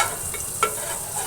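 Pav bhaji vegetable mash is stirred into melted butter in a pan, giving a soft continuous sizzle with a few brief scraping stirs.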